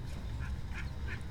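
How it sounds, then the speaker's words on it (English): A goose gives three quick nasal honks in a row, fairly faint, over a steady low rumble. "Oh, the poor goose."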